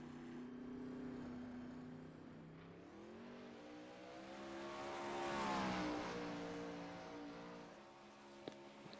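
A sprint car engine in a racing sim, a sustained nasal drone whose pitch climbs and dips as the car speeds through a lap, swelling louder near the middle and then easing off.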